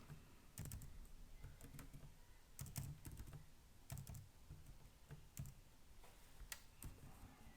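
Fingers type on a computer keyboard in quiet, irregular bursts of close, crisp key clicks with short pauses between groups, with no talk.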